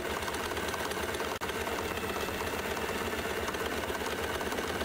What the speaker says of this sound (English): Hear how the motor runs at full speed as well.